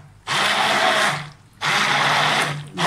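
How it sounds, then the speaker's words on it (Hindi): A hand blender mashes cooked lentils for Lahori-style haleem, running in two whirring bursts of about a second each with a short pause between them. "इसमें अब इसको मैश करने के लिए हैंड ब्लेंडर यूज़ करूंगी"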